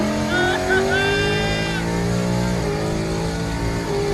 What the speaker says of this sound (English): one more pull on the Mustang. Boosted Mustang.